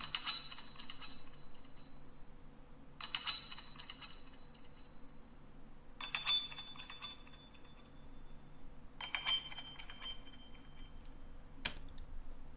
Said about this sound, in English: Next, I've just added this bell, which is acting more as a texture more than anything.